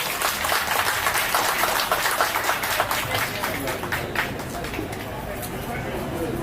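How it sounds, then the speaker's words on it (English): A large crowd at a political welcome event applauds with dense, sustained clapping that stays loud and then gradually thins. "Please help me give them a round of applause."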